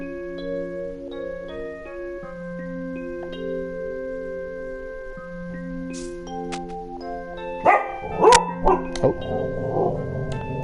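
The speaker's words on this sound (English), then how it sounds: "It is my roommate's dog freaking out" A roommate's dog barks and yips a few times indoors, reacting to someone passing outside the building, short sharp bursts over steady background music.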